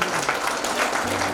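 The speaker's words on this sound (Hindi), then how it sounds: "आप स्वयं के लिए एक बार जोरदार तालियों से" Audience at an inaugural session of a Brahmakumaris medical wing gathering in Amravati breaks into loud, dense applause, a continuous wash of many hands clapping throughout the short moment.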